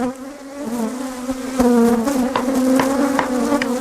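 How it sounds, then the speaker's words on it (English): Honeybees buzz loudly and steadily around an open, queenless hive with a laying worker, a close, dense drone that swells and dips as insects pass near, with no voices. "the microphone isn't getting mugged by bees"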